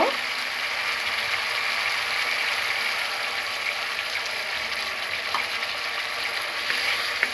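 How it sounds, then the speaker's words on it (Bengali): Egg korma gravy with yogurt sizzles and crackles in a pan as a little water is added, a steady close frying hiss with faint clicks, no talking over it. "এবার আমি সামান্য পরিমাণ পানি দিব।"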